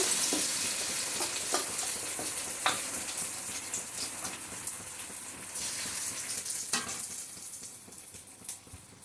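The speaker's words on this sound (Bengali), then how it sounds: "গ্যাসের হিট কিন্তু একদম কম আছে নাড়াচাড়ার মধ্যে রাখতে হবে" Batter stirred in hot mustard oil in a kadai over low heat gives a soft, steady frying hiss, broken by occasional light scrapes of the spoon.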